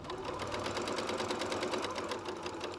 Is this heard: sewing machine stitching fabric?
yes